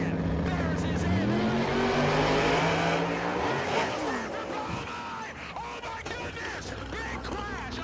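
A Corvette drag car roars past, its engine note rising and then falling away over a few seconds, loud and harsh, with talk mixed in.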